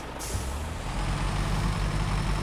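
A heavy truck in the snowy off-road driving game SnowRunner reverses, opening with a sharp air-brake hiss over a low, continuous diesel rumble that holds steady throughout.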